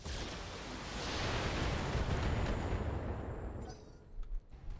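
Heavy weapons fire in the BattleTech video game, a dense roaring barrage of blasts that swells over several seconds, then thins into a few scattered bursts near the end.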